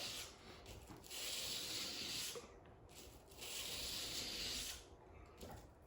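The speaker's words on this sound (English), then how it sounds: "And the lower the grit sandpaper, or the more aggressive the sandpaper is, you'll feel a little resistance as you're doing this." Knife blade rubbed back and forth on sandpaper to sharpen it, giving a steady gritty scraping in long even strokes that swell and fade, close and fairly quiet, with no talking.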